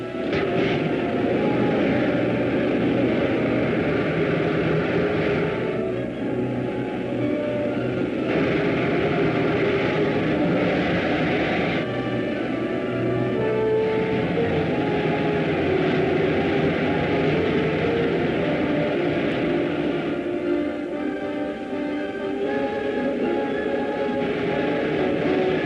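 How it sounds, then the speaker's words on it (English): Rocket ship main jets firing in a 1950s science-fiction film serial: a loud, steady, broadband roar that holds without a break, with slight shifts in tone, and no voices over it. "Fire main jets."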